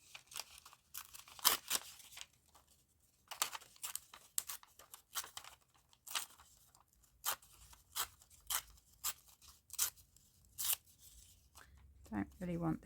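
Patterned craft paper is torn by hand, partly along a ruler, in a series of short, sharp ripping bursts separated by quiet pauses, close and fairly soft.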